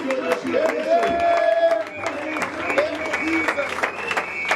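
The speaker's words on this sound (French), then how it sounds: "Clap your hands" A church congregation claps for Jesus, a steady, dense rhythm of many hands clapping throughout, loud and close, under a preacher's voice and singing.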